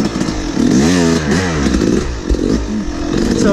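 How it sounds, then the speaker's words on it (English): An enduro motorcycle engine struggles to start, sputtering and revving unevenly in loud close bursts that catch briefly and fade without settling into a steady idle. "Of course, I can't start my bike."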